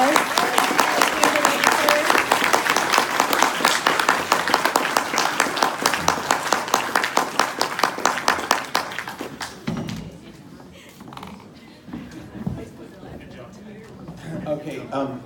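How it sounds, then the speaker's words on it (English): An audience claps in steady, dense applause for about nine seconds, then the clapping thins out and fades into quieter room noise with a few scattered claps and voices. "Let's please give them a round of applause."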